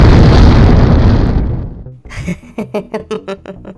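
An explosive charge detonates in a staged drama scene with a big, close boom that rolls into a long fading roar, followed by a run of sharp crackling pops and bursts as the blast breaks up.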